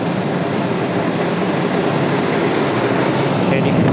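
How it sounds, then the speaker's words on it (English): Air rushing through a damper in a ventilation duct during a venturi valve airflow demonstration, a loud, steady broadband whoosh that holds without a break. "And the noise you're hearing is from this damper, it's not from the valve."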